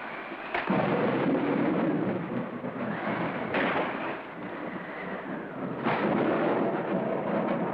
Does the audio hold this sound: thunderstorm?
yes